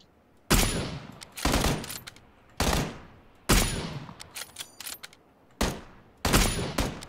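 Gunfire in the battle royale game PUBG: four or five bursts of rapid automatic shots, each a loud crackling volley trailing off, separated by short quiet gaps, with no talk over them.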